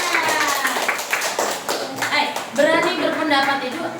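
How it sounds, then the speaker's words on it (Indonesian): Children in a classroom clap their hands together in a brisk, fairly close burst, then young voices carry on over the fading claps. "Tepuk tangan dulu untuk Fatia"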